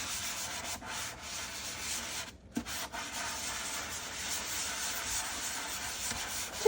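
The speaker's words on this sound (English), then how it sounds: "now I'm going to do my scrubbing now that I got my soap all around" Scrubbing a quartz composite sink with soap gives a close, continuous rubbing and scouring sound, with a brief pause partway through before the scrubbing resumes.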